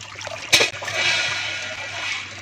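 Water runs and splashes steadily while goat tripe is rinsed clean, a close continuous gush with a brief louder splash early on.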